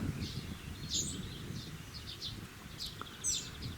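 Small birds chirp near a pond, with short, thin calls repeating at intervals over a faint, low background rustle, moderately distant and soft.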